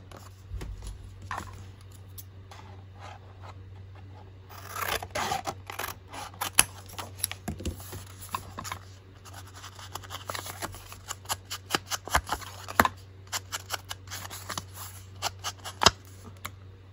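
Scissors cut a paper tag for a junk journal envelope. After a quiet stretch come many crisp, close snips in irregular bursts, above a steady low hum.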